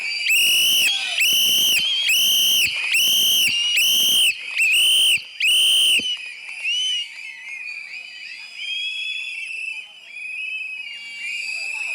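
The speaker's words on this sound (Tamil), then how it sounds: "இந்த விசில் சத்தம்" Loud whistles from a crowd at a TVK political rally marking the party's anniversary in R.K. Nagar: about eight sharp, rhythmic shrill blasts in unison, then a ragged, sustained mass of whistling mixed with shouting.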